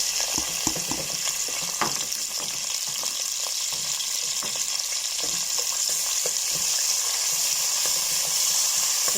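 Onion fries in butter and oil in a pan in a home kitchen, giving a loud, continuous close sizzle with crackling pops and occasional stirring clatter throughout.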